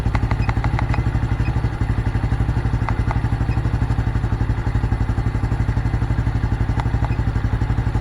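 Honda Blade 125 Fi motorcycle engine running at a steady idle, close and fairly loud, its even rapid thumping pulse continuous throughout with a few light ticks and clatters on top.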